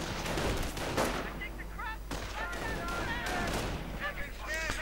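Rifle fire crackles in a WWII strategy video game, sharp shots and bursts of small-arms fire over a busy battle din, with someone talking throughout.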